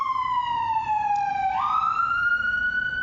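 An ambulance siren sweeps past outdoors, its wail gliding downward, then shifting and rising again over three seconds. It is fairly loud and distinct against a faint background rumble, with no voices.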